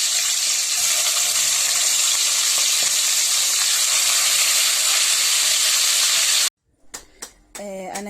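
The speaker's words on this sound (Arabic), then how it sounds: "انا هنا اهو ضفت بقى الفراخ كلها، وهبتدي بقى كده اشوح فيها" Chicken pieces sizzle loudly and steadily as they are stir-fried in a hot pan, a dense frying hiss running for several seconds before cutting off abruptly into brief clatter.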